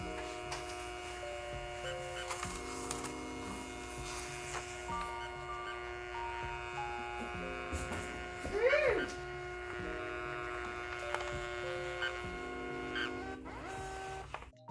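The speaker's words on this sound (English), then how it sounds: "the printer will start scanning it and it start printing out" A Munbyn portable thermal printer runs steadily, giving a low, quiet mechanical hum and whir with a brief louder burst partway through, and no one talks.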